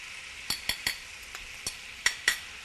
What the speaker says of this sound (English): Stir the capers in it.